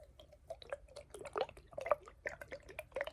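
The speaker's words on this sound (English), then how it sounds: "The sound of water" Soft water drips and small splashes fall in an irregular patter, close and quiet, in a calm ASMR setting with no talking.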